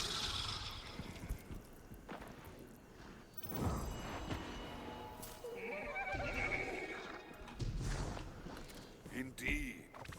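A horse whinnies in a video game, its neigh mixed into a busy soundscape of hoof clip-clops, water and game effects, with a voice talking over it throughout.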